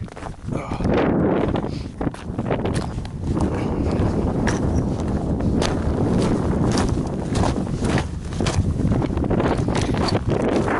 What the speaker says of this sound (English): as I start recording, the wind picks up. So it's probably a little staticky.